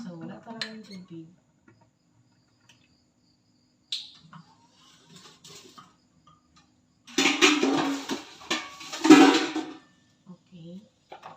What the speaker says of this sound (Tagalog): Maghuhugas na ako ng pinggan.